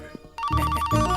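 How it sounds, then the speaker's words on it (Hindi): A phone ringtone starts after a quiet moment and rings out with a bright, repeating electronic melody, loud and close, with no speech over it. "हेलो, फोन उठा। अरे इसे कोई साइलेंट मोड पे रख दो।"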